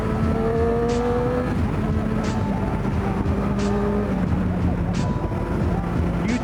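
A motorcycle engine drones steadily nearby, a continuous loud buzzing motor note with shifting pitch and brief sharp spikes as it revs, with no break in the sound.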